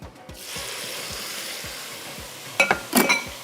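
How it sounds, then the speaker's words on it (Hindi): Ground spices with red chilli powder, coriander and onion paste stirred and roasted in a pot, a steady soft sizzle with scraping, then a few louder clanks of a spoon against the metal near the end. "बस अब इस मसाले को मैंने अच्छे से भुनाई करनी है।"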